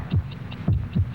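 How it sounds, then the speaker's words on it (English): A heartbeat effect thumps steadily in the foreground, three deep, close beats in a regular rhythm with a faint hum under them. "72 heartbeats"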